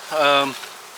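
A honeybee colony buzzes inside an open hive during a beekeeping inspection, a steady close hum that swells for about half a second and then fades into a faint background drone.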